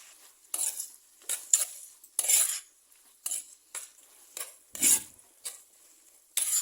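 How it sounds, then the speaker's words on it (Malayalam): Onions and tomatoes being sautéed with salt in a pan, with a spoon scraping and stirring: a series of short, close scraping strokes in an irregular rhythm, quiet between strokes, with faint sizzling and no talking. "ഇതൊന്ന് വഴറ്റിയെടുക്കാം നമുക്ക് പെട്ടെന്ന് വഴന്ന് കിട്ടാൻ ഒരു അര സ്പൂൺ ഉപ്പും കൂടി ചേർത്ത് കൊടുക്കാം"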